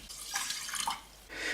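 Water pouring into a pot of rice for boiling, a steady splashing trickle close by with a brief lull before the flow picks up again.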